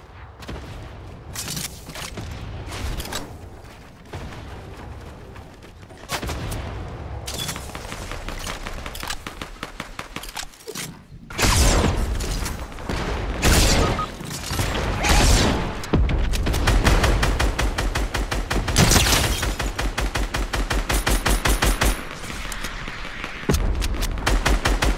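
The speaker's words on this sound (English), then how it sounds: "They shooting at me now." Gunfire aimed at the player in Fortnite: dense, sustained bursts of rapid automatic shots with booming blasts, loud and nearly continuous, briefly dropping out near the middle before resuming heavily.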